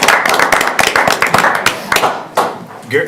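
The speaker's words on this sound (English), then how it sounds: "And give them a round of applause." Applause at a city council meeting honoring a championship team, a brief burst of hand clapping from a small group that thins and fades out with a few scattered claps, with talk mixed in.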